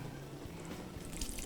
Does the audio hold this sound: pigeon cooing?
no